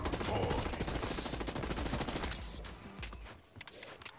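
Rapid SMG bursts in Black Ops 6, the video game, loud and dense for the first couple of seconds, then thinning into scattered shots and footstep-like taps.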